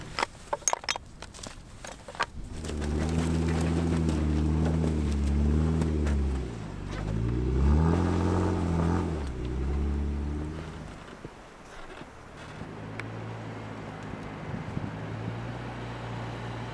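A vehicle pulls away on a mountain trip, its engine rising into a steady rumbling drive with some shifting pitch. Gravel crunch and rattles come before it, and the engine settles to a lower hum near the end.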